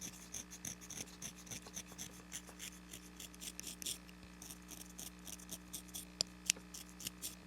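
A knife scraping the tip of a weak reed cane gives a repeated, fine rasping sound in short strokes, close by and fairly quiet, with no talking.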